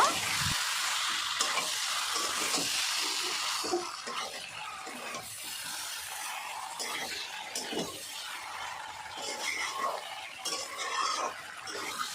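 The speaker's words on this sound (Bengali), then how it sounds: "এবারে আমি দিয়ে দেব ভেজে রাখা এঁচড় আর আলু দুটো একসাথে দিয়ে দেব পাঁচ মিনিটের ভালো করে আমি কষে নেব" Pieces of fried jackfruit and potato are stir-fried in a pan with a steady close sizzle. Spatula scrapes and clinks recur through it, a little softer after the first few seconds, and no one talks.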